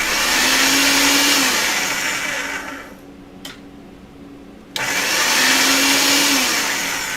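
A metal rolling mill presses a chunk of mokume gane metal, giving a loud, steady mechanical roar that drops away briefly midway with a faint click, then starts up again at full strength.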